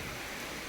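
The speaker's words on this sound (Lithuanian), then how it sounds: "koks šaltas lietutis ant kupros" Cold rain falls steadily outdoors, a dense, even hiss with no pauses and no voices over it.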